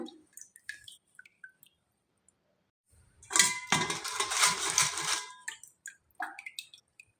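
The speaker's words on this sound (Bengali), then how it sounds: "যত ছিবড়া ছিল ছেঁকে জলটা বার করে নিলাম" Strained tamarind water pours through a kitchen sieve in one close, splashy run lasting about two seconds. Scattered soft drips come before and after in an otherwise quiet space, with no talking.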